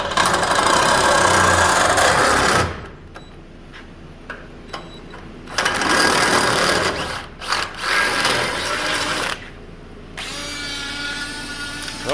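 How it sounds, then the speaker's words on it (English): A power drill bores a hole in metal during a Crown Vic front suspension install on an LS-swapped Ford F100, giving several loud, close whirring bursts separated by quieter pauses. "run the drill a little bit there"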